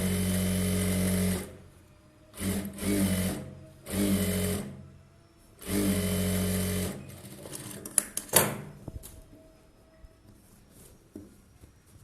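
An electric sewing machine stitches the edge of an Aari work blouse in several short, loud bursts separated by pauses, followed by scattered clicks and handling noises as the fabric is adjusted.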